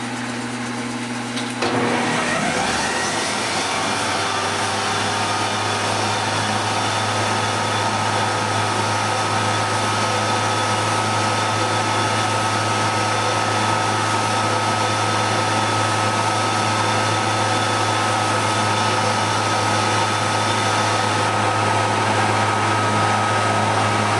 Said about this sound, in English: Now I'm going to turn the dust sucker on.